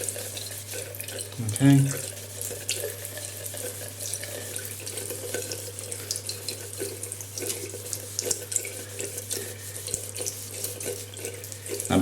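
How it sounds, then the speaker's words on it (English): Tap water runs steadily into a sink during cleaning of Spyderco Sharpmaker sharpening rods with toothpaste, a constant close hiss with a brief louder splash near the start and a short spoken word over it. "you've left the tap on, why are you wasting all that water?"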